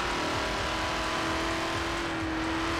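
In Forza Horizon 4, a McLaren Senna supercar cruises with a loud, even engine hum and a sustained tonal whine that barely changes pitch throughout.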